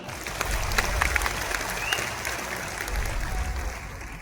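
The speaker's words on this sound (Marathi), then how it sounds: "त्यांच्यासाठी जोरदार टाळ्या वाजवा" A crowd applauds for national leaders and the chiefs of the armed forces at a political gathering, steady dense clapping that holds for several seconds and fades slightly toward the end.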